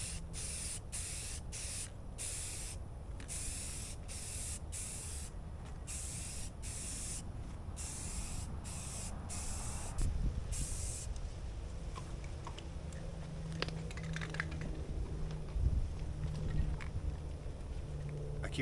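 Aerosol spray paint hissing onto a sanded Jeep Cherokee XJ sun visor, a string of short bursts followed by a long continuous hiss, close and steady.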